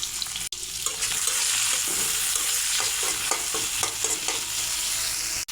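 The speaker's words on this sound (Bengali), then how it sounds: "সয়াবিন তেল দিয়ে দেব। চিংড়ি মাছগুলো ভেজে নেব।" Shrimp sizzle steadily in hot soybean oil in a pan, a loud, continuous close-up frying hiss with occasional stirring scrapes and no speech.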